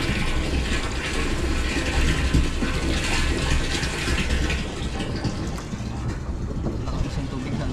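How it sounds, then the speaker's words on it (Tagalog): Water being loaded and poured into containers, a continuous loud gushing and splashing flow running steadily throughout with a faint engine-like rumble underneath. "karga po tayo ng ating tubig pang Raptor."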